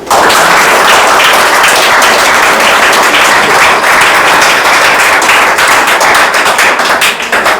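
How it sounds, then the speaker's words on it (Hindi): Loud, continuous applause from a group clapping in a classroom as a student is honoured for topping a Saturday test, dense and sustained for the full length without letting up. "ताली बजाओ भाई।"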